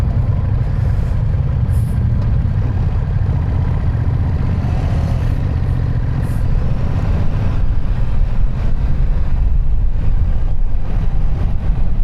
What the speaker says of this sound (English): I'm testing this bike out on the low RPMs intentionally, see how different it feels